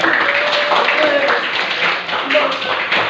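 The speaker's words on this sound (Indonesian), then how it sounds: "beri tepuk tangan kepada Kang." A classroom full of students claps for a classmate, dense scattered applause filling the room steadily and fairly loud, with chatter mixed in.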